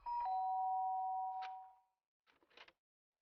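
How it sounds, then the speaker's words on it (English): A doorbell in the video game Danganronpa: Trigger Happy Havoc rings a clear two-tone ding-dong that fades out, followed after a short silence by a few soft knocking or shuffling taps. "There's a doorbell next to the door."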